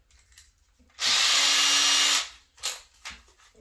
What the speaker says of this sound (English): Crank her on the turbo and drill some holes.